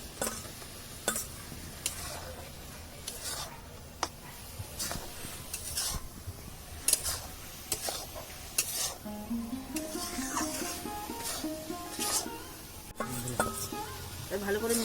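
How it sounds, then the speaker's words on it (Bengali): A spoon stirs besan motichur laddu beads into melted sugar in a pan, giving repeated scraping clicks and clinks with a soft sizzle underneath, close and fairly quiet, while someone speaks now and then. "ভালো করে মিশিয়ে নেব।"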